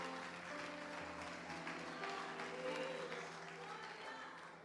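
Church congregation applauding, a dense continuous wash of clapping with crowd voices and a sustained tone underneath, steady and fairly distant throughout.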